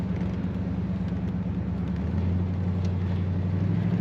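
A 1970 Buick Electra 225 Custom convertible under way, its big engine a steady low rumble with road and wind noise, rising slightly in tone halfway through, with no talking.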